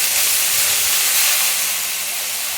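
Green chilli and garlic paste sizzles in a hot pan for fenugreek greens bhaja, giving a steady, loud, close hiss with no voices over it.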